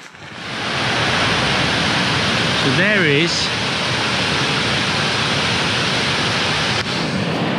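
Steady roar of a small roadside waterfall along a long-distance walking route, broad and continuous throughout, with a brief burst of speech near the start and a short whistling tone partway through.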